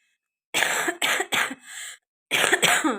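A person with a cough and fever coughs in close, harsh bursts: three quick coughs, a short wheezy pause, then two more.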